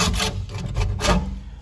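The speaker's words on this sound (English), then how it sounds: "You can see how the scraper works." A hand scraper scrapes rust and underseal off the body of a Subaru Brumby in rough, rasping strokes, several close back-and-forth scrapes with no talk.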